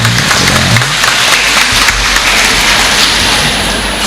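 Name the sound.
audience applauding for teachers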